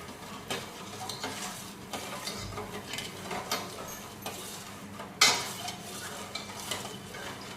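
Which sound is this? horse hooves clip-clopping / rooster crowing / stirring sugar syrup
stirring sugar syrup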